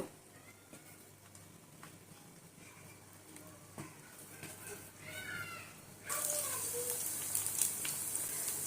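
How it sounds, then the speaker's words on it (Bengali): Chicken pakoras dropped one by one into oil that is not very hot, a steady low sizzle that swells into a louder, brighter frying hiss partway through, with a voice speaking over it. "আমি হচ্ছে একে একে পাকোড়াগুলো দিয়ে দিচ্ছি"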